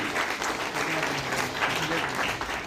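Audience at a Bharatiya Bhasha Parishad foundation day literary event applauds loudly and steadily for an honoured writer, a dense wash of many hands clapping throughout with faint voices beneath.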